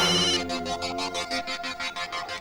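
A mobile phone ringtone plays loudly and close by in a Hindi crime drama scene, starting with a steady tone and then pulsing in a regular repeating pattern, with no voices over it.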